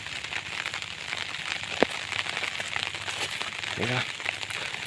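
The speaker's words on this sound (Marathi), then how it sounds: "आमच्या व्हाला पाणी आलं आहे एकदम जोरदार प्रमाणात पाणी आलं आहे" Heavy rain falls outdoors on a Konkan farm alongside a swollen stream, a dense continuous hiss of rushing water under someone talking, with a brief sharp knock partway through.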